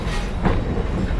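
A train stopped at Paradise, Pennsylvania, its locomotive about to be uncoupled, gives off a steady close rumble of rail noise with a slight rise in the middle and no voices.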